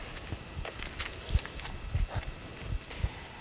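Hooves of a horse walking loose at liberty clip-clop in an irregular, steady rhythm, close and fairly distinct over a soft background.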